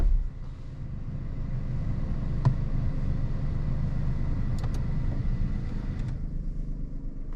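A 2021 Suzuki Alto 660cc engine idles with the air conditioning on, giving a steady low rumble with the AC fan running, close and fairly even throughout.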